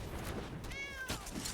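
A cat meows in the Magic the Gathering Arena card game, a single short, clear meow with a gliding pitch, heard alone over a light bed of game background sound.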